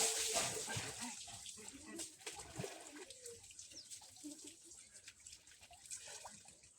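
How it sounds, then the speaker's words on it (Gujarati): Water runs and splashes from a water pump at a bathing spot, a continuous gushing close by with small irregular splashes, no talking. "આ છે અમારે સરસ બધાનું વોટર પંપ."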